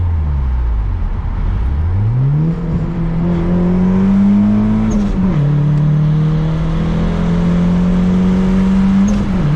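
A lowered turbocharged second-generation DSM car revs up while driving, its engine note climbing through gears with a brief lift between them, then holding a steady loud drone from inside the cabin, with no talking.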